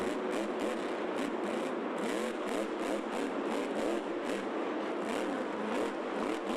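A big monster truck engine roars and revs in rapid repeated bursts at a Monster Jam event, loud and continuous with a crowd-like wash behind it.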